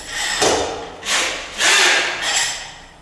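A powerful drill fitted with a wrench tightens anchors during plywood floor installation on joists in an old apartment, three or four loud whirring bursts of about half a second each, separated by short pauses.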